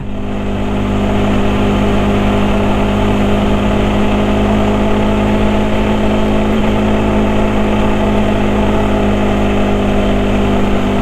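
A vehicle engine labors loudly and steadily in third gear while climbing a steep mountain road, a close, unbroken mid-pitched drone with no talking.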